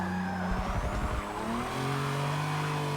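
A Buick GNX still running its V6 battles a Toyota Supra, engine revving and shifting pitch alongside brief tire squeal and skidding, steady and moderately loud with no talk.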